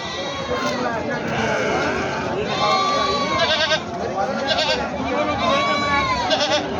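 Several goats bleat loudly and repeatedly, overlapping one another, over a busy background of voices and crowd chatter at a rainy, muddy goat market.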